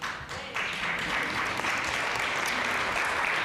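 An audience at a Chicago workforce and talent event gives moderate, steady applause that swells after a brief start and carries on evenly, with no talking over it.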